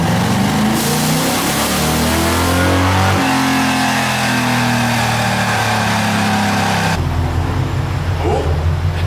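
Chevy Cavalier engine on a dyno fed nitrous near the carb, revving hard and loud throughout with rising pitch, a shift partway through and a sharp drop near the end.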